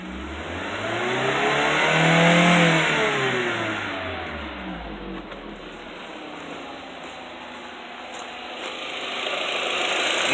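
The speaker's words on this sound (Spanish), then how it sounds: "Si yo acelero este carro, el aceite va a subir más rápido y va a tener una mayor lubricación y se le va a quitar el ruido" A VW 1.8T engine in a car revs up and back down, rising to a peak and falling, with a steady metallic valvetrain ticking running beneath; it ends settling toward idle and no one talks.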